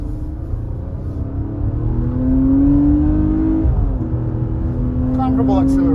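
A Nissan Pathfinder or Toyota Highlander SUV accelerates steadily from inside the cabin, engine drone rising in pitch, briefly dipping, then climbing again, with a voice speaking near the end.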